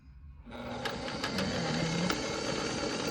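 A sewing machine starts after a brief pause and runs steadily, stitching a blouse seam. It is a close, even mechanical whir with no talk.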